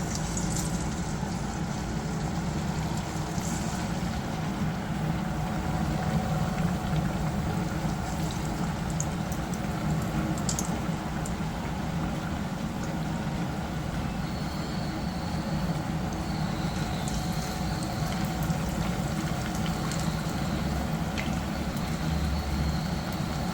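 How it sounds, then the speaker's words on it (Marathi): Sabudana vadas deep-frying in hot oil over a medium flame, a steady, dense sizzling and bubbling that holds evenly throughout, close and fairly loud with no talking. "तेल गरम झालेलं आहे. आपण आता हे वडे तळून घेऊयात."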